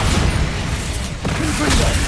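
The Bombarda blasting spell goes off in Hogwarts Legacy, a dense roaring burst with a deep rumble that fills the whole moment and stays loud throughout.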